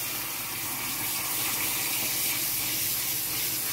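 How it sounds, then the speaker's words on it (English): Hot and cold water spraying from a kitchen sink sprayer onto rice in a strainer, a steady close rush of running water with no breaks. "Turn on hot and cold and just hit the sprayer and keep doing it."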